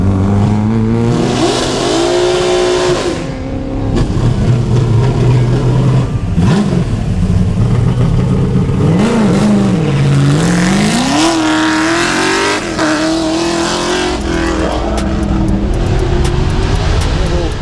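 Historic Ford XY Falcon touring car at a lakeside hillclimb, engine loud and close, revving hard through the gears with rising and dropping pitch as it climbs and brakes.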